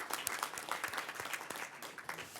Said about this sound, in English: big round of applause for Serene El Nashar